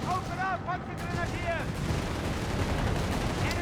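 Machine gun fire and battle noise in the video game Company of Heroes 3, a dense continuous wash of gunfire and explosions with a commentator's voice heard over the top early on.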